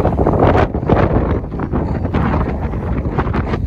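Strong wind buffeting the microphone in heavy, uneven gusts, rumbling loudly throughout with no speech.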